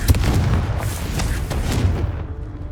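Fire spell Confringo in the video game Hogwarts Legacy, exploding in a loud, close, deep booming blast with a rumbling roar that decays over about two seconds.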